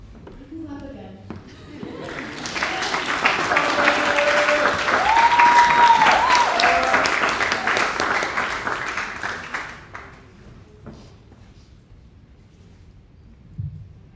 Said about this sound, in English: You can clap again.